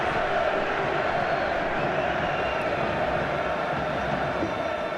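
Roaring football crowd noise from the packed Kop stand during a Northern Ireland versus Sweden international, a loud continuous wash of cheering and chanting that fills the whole stretch.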